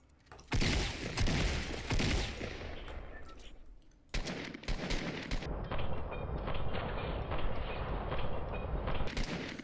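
Gunfire in a shooter video game comes in loud, rapid automatic bursts and single cracks, nearly continuous for several seconds with a brief break partway through.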